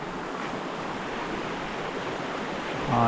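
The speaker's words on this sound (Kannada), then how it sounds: "ಇದ್ರ ಮುಂದೆನೇ ನಮಗೆ ಈ ಥರ ಒಂದು ಚಿಕ್ಕದು ನದಿ ಕಾಣುತ್ತೆ" Continuous broadband rush of a small river flowing nearby in Coorg, steady and moderately loud, with no voices.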